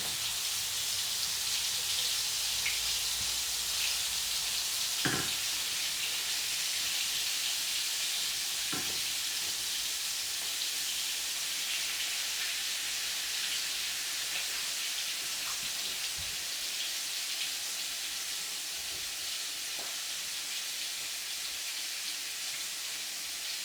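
Homemade meatballs sizzle in frying oil over a gas flame, a loud, continuous crackling hiss close by with occasional clinks of utensils and no talking.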